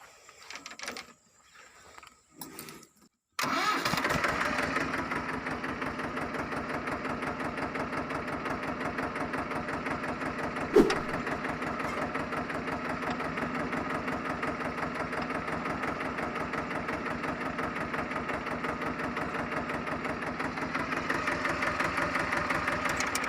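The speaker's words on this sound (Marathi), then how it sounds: "चला आपण ट्रॅक्टर करून बघूया चालू करून बघूया" A tractor's diesel engine cranks and catches after a few seconds of quiet clatter, then settles into a steady, rhythmic chugging idle close by in a farm field, with one sharp knock midway.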